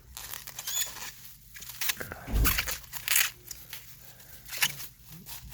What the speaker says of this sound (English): I'm going to have to take it out and unwrap it.